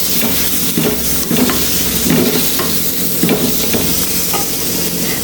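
Chopped tomato and salt sautéed for a Kerala fish curry, stirred in a pan with a loud, steady sizzle and repeated scraping strokes, close up with no talking.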